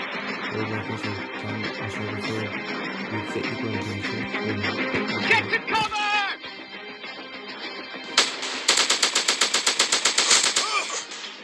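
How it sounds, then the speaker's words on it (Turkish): Automatic gunfire from a new weapon in an FPS shooting video game, with rapid bursts at the start under game music and a long, fast, loud volley near the end. "Yeni silahımız arkadaşlar."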